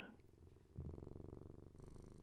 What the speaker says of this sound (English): so you might hear the occasional bit of purring.